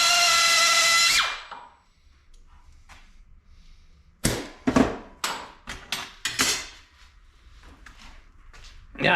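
An angle grinder chamfers the edge of a steel welding bracket: a loud high whine at the start spins down, then a series of sharp grinding bursts and clanks follow after a quiet pause.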